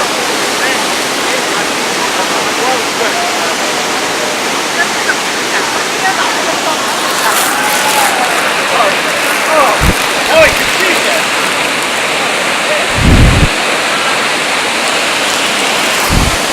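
Niagara Falls thundering down at the Cave of the Winds, a steady, close, full-bodied roar of crashing water that never lets up, with a few brief low thumps near the end.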